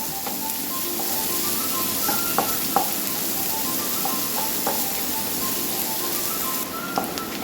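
Onion sautés in a pan for soya masala, giving an even, close sizzle throughout, dotted with light clicks and taps as it is stirred.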